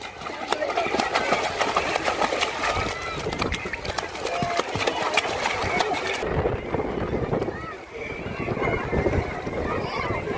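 A boat engine runs with a steady, buzzing chug at a river beach at Kotna near Vadodara, wind rushing across the microphone and voices talking over the motor for most of the stretch.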